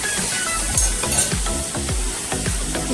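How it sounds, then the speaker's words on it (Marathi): Onion sautéing in a pan for a home-style coastal dry prawn dish, a steady sizzle with repeated stirring scrapes and soft clinks close by, no voices. "कांदा थोडा परतून झाला"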